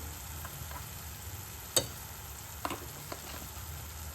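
Tomatoes with salt frying in a pan, a quiet steady sizzle with a few faint ticks and one sharp clink partway through, no voices.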